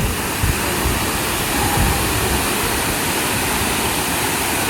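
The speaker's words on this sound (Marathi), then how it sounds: "खूप मोठा धबधबा आहे." Large waterfall at a cool spot in Bali, heard close up as a loud, dense, unbroken roar of falling water that stays steady throughout, with no voices.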